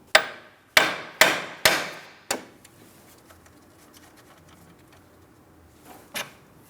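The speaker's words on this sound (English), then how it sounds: "I'm going to lightly tap on my steering knuckle, causing vibration" A hammer taps a steering knuckle on a 2004-2008 Pontiac Grand Prix during front steering rack bellow work: five sharp, close metallic strikes in quick succession, each fading fast, then one fainter knock after a pause.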